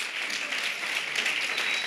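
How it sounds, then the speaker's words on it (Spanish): A church congregation claps in steady, dense applause, a full close wash of hands with no gaps, heard alone. "denle un fuerte aplauso a Jesús"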